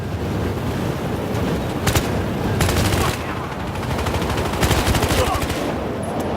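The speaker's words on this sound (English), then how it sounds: "This weapon is actually a modernized version of the M4, and with this variant comes automatic fire." Automatic M4-variant rifle fire in Battlefield Hardline, sustained loud bursts of rapid gunshots with sharper volleys near two and five seconds, over dense in-game battle noise.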